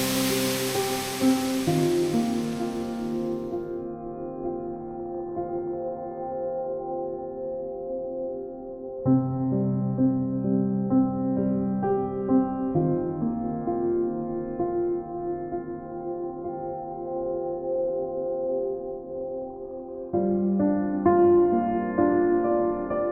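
A waterfall beside a river on a remote Atlantic island gives a loud, steady rush of water for the first few seconds, then fades beneath sustained melodic music that fills the rest.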